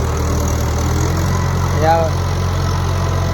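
A tractor engine runs steadily at a low, rumbling idle on a farm, close and continuous, with a brief faint tonal whine partway through.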